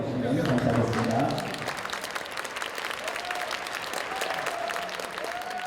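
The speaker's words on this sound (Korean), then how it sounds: "박수로 맞이해 주시면 감사하겠습니다." Audience applause welcoming two elderly professors, alumni of Pyongyang Soongsil school, at a Korean gathering; a voice and tonal sound open the clip before sustained, fairly soft clapping takes over and continues evenly.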